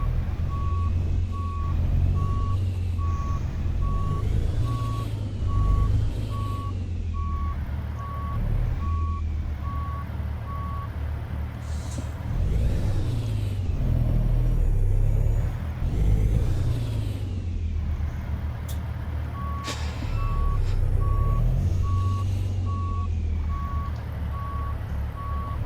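Loud, regular reversing beeps from a Kenworth T800 heavy-haul truck backing up in American Truck Simulator, repeating over a steady engine drone, pausing midway and then resuming.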